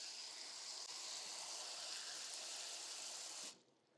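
Cold tap water gushes steadily into a big bowl for soaking leeks, a loud continuous rushing stream that cuts off abruptly near the end, with no talking.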